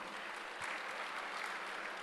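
Brief, steady applause from a seated audience at a technical conference session, a dense wash of clapping that is fairly faint and distant throughout.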